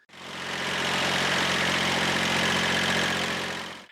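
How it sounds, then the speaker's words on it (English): A vineyard tractor engine runs steadily at a low, rumbling idle, close and loud, with a constant droning vibration from start to finish. "The tractor's working now with just a simple change of air filter."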